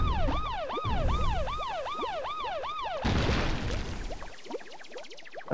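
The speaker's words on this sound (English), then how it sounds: "I don't like the siren." A wailing siren in Paper Mario: The Thousand-Year Door sweeps up and down in loud repeated cycles, then breaks into a noisier, choppier stretch of rapid yelps before fading.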